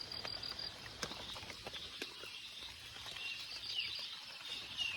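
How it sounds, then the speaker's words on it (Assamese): Rain pattering steadily on a tarpaulin tent at an overnight rain campsite, a soft continuous patter of drops close overhead with scattered louder taps, no voices. "কিমান মানে স্পীডত বৰষুণ যাক পৰি আছে টিপালখনত"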